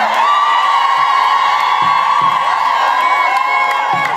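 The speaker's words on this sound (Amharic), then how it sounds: "ትልቅ ትልቅ ጭብጨባ አሁን" A large crowd cheers and shouts loudly and continuously at a school anniversary celebration, dense and close throughout, with children's voices and a few sharper claps or knocks.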